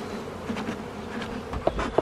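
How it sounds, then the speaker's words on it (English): Honeybees buzzing loudly as they are shaken from nuc frames into a hive box, a close dense swarm hum with a few soft knocks and thumps of the equipment. "Now the rest of the bees, I just shake it up inside there."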